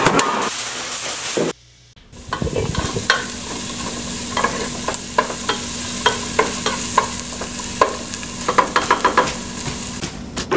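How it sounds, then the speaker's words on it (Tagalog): Garlic frying in oil, then chopped onion dropped in: a loud sizzle cuts out briefly, then a hissing fry returns with repeated sharp scrapes and clacks of a spatula stirring, close up, no talking. "Ilagay ang bawang hanggang maging golden brown. Ihalo ang sibuyas."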